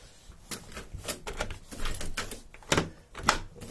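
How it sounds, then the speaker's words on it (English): Clicks, clunks and a latch clatter from a car door being worked open outdoors in freezing cold, a series of close, uneven knocks with no talking. "Okay, get this door open."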